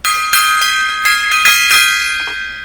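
A gong or bell struck several times at a live show, each ringing, harmonic-rich hit blooming and decaying over the next, loud and close with no talk.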